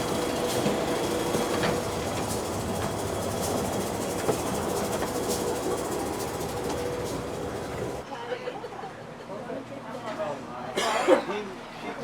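Rumbling train rolling along rails near the Panama Canal with a steady rhythmic clatter, then the noise drops sharply and a muffled cough or throat clearing follows.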